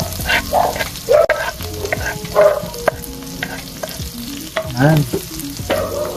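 Onion and garlic sautéing in a frying pan for pansit canton, a crackling sizzle broken by repeated scraping stirs and utensil clanks, with one short spoken word.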